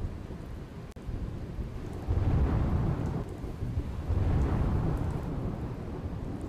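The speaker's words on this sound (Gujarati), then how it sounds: "જિલ્લામાં ગાજવીજ સાથે પડ્યો ભારે વરસાદ" Thunder rumbles low and long through a steady roar of heavy rain during an unseasonal storm in Gujarat, the rolling booms swelling twice over the downpour with no voices present.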